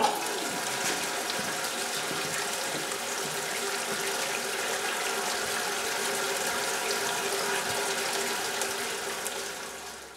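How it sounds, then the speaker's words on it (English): Water rushes steadily through a homemade urinal built from a beer keg and fed by gravity, a constant splashing flow close up that fades slightly at the end, with no talking. "let's flush her and see how the water comes out."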